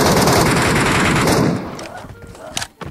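Loud, rapid automatic gunfire in the video game Metro Royale, a sustained burst for about a second and a half that cuts off, followed by quieter scattered sounds and brief voices.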